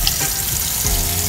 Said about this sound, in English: Y'all hear that I'm washing it off.